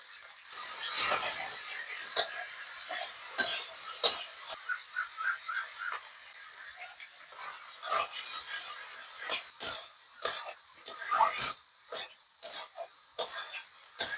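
Taro stolons being stirred in a pan with salt and turmeric, giving soft intermittent scraping and clinking of a utensil against the pan in irregular short strokes, fairly quiet.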